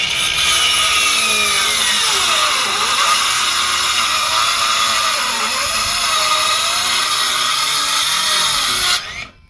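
A power saw cuts steadily through a Krono chipboard floor board, with a loud, continuous whine whose pitch sags and recovers as the blade loads up in the cut. It stops abruptly at the end, with no talk.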